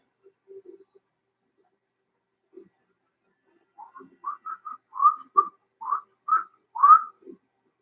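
A person whistles a short run of clear, separate notes with a slightly wavering pitch, alone and fairly close, after a quiet stretch with a few faint low hums.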